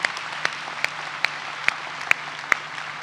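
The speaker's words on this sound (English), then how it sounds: "Please join me in a warm round of applause." A graduation audience claps in a dense, even patter, with sharp, louder single claps standing out at regular intervals about every half second.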